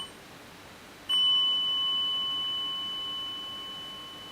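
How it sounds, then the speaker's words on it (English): A single strike on a meditation bell gifted by the abbot of Plum Village in France rings out as one clear, pure tone that hangs and slowly fades over several seconds, soft and alone. "I have a bell that was gifted to me from, I think that was the abbot of Plum Village in France"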